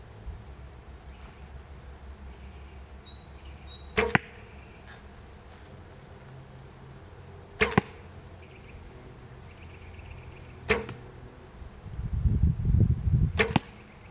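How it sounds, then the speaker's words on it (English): Four sharp bowstring twangs snap out at intervals over quiet outdoor wind, the last followed by a low rumbling rustle. "the only thing that I'm noticing is that the bow is making the sound here"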